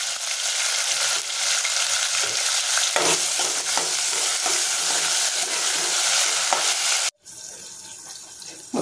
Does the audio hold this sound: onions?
yes